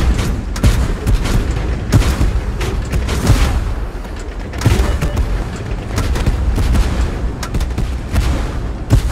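Tank cannon fire in the Tank Force video game, loud booming shots with heavy rumbling battle noise that continues throughout.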